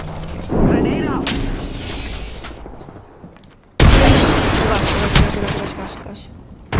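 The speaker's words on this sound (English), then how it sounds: "Grenade out." A grenade blast in a video game: a heavy boom near the start rolls into a long rumbling decay, then a second loud burst of explosive crackle hits partway through, with game noise continuing and no clear talk.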